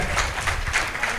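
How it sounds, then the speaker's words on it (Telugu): Audience applause for a speaker at a pyramid anniversary event: dense crowd clapping at moderate level, with pulsing surges and faint voices mixed underneath. "గట్టిగా క్లాప్స్ కొట్టుకుందాం సీతయ్య గారికి."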